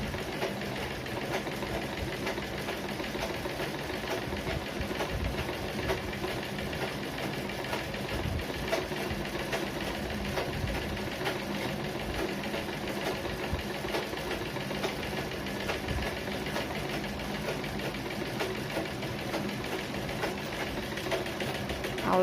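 A sewing machine stitches the band of a blouse, running steadily and continuously at a moderate level without pause.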